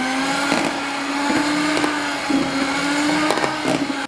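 An electric mixer beats cake batter with corn oil into a creamy white mix, a steady close motor whine with repeated knocks and scrapes as the beaters bump the bowl.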